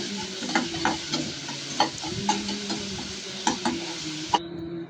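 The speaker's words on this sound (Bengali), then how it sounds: "মশলাগুলো দিয়ে এখন আমি কষিয়ে নিব" Spices and onion sautéing in oil in a pan, a continuous close sizzle punctuated by sharp scraping and stirring clicks at irregular intervals, loud, with no voices.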